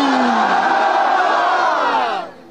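A large crowd at an outdoor Islamic sermon gathering shouts a loud, sustained takbir response in unison, holding the chant for about two seconds before it tapers off abruptly.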